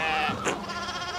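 A sheep bleats once in the medieval adventure game Pentiment, a short wavering call standing out over a steady background of in-game ambience and music.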